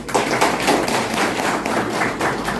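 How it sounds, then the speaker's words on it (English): Crowd clapping at an outdoor political election rally for a BJP candidate, a short burst of dense, close applause with thudding claps. "Give a big round of applause."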